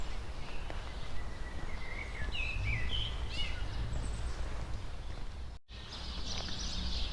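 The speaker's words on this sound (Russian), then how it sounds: "Птички поют." Small birds chirp and twitter faintly in the distance over a constant background rumble, in short scattered phrases, at a resort hotel in Gagra, Abkhazia.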